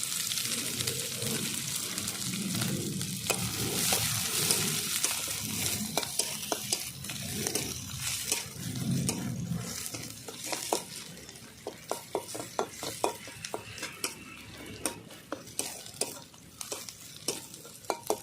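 Chopped onion frying in hot oil with black cumin seeds for a Bengali fish curry, a steady close sizzle with repeated stirring scrapes and occasional sharp clicks of a utensil against the pan.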